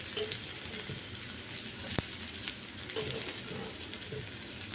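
Ginger garlic paste and tomato pieces fry in a pan for a dhaba-style paneer curry, giving a steady, dense sizzle with soft crackling throughout and one sharp tap near the middle.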